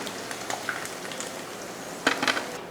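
Chicken chilli deep-frying in hot oil for a Diwali non-veg feast, a soft steady sizzle with faint crackles and a brief louder burst of spattering near the end, no talking.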